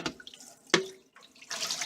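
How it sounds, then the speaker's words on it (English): Cold tap water runs over a vacuum cleaner part being rinsed, a steady splashing stream broken by a sharp clatter and rising again toward the end, close and fairly loud with no voices. "All I'm going to do is just rinse it out."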